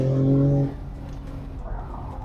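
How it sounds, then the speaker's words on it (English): A 2024 Porsche 911 S Cabriolet engine runs with the sport exhaust open, giving a loud, steady tonal drone at first that settles into a rougher, lower rumble. "Let's see what it sounds like with sport exhaust"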